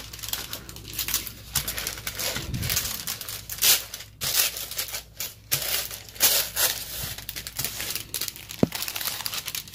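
Paper for a painted vintage treasure map is ripped by hand, a continuous close crinkling and tearing with uneven bursts and rustles throughout.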